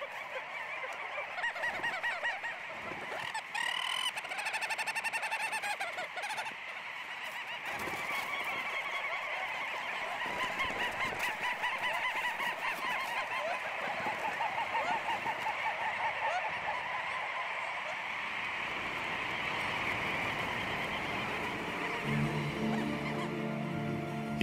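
Noisy seabird colony on a Greenland cliff, many birds honking and calling at once in a dense, overlapping, continuous chorus that stays loud throughout.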